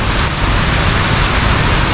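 Heavy rain pours down in a dense, steady, loud hiss that fills the whole moment without pause or voices.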